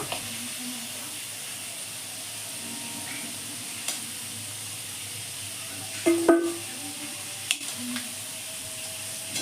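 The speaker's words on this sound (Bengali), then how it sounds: "আলুগুলো ভাজা হয়ে গেছে, এবার আমি আলুগুলো তুলে নেব" Potatoes fry in oil with a soft, continuous sizzle and a few scraping and clinking sounds of a utensil against the pan, quiet and close.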